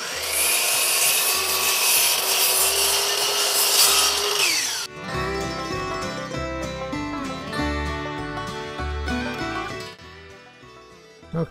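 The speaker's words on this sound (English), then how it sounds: "I'm gonna cut this at about 3 feet long." Steady back-and-forth strokes of a saw cutting a wooden board to length for a monitor riser stand fill the first five seconds, close and loud, before giving way to music.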